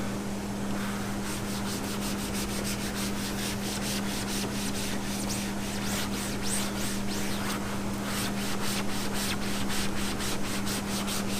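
Adam's Polishes leather care being worked by hand into a car seat's creases and seams: a continuous close, soft rubbing and scrubbing noise with a quick repeated rhythm, steady throughout over a low hum.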